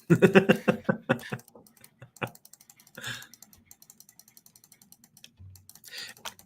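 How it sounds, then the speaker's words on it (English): Rapid computer mouse clicks come in fast bursts and then a steady run of light, evenly spaced ticks during Minecraft play, close and crisp, with a few faint murmured sounds mixed in. "I'll just be over here clicking."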